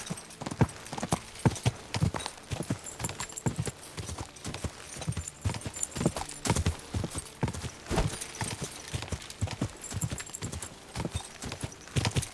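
Horse hooves clip-clop in a steady, brisk rhythm throughout, close and clear, with no talking, in the video game Kingdom Come: Deliverance II.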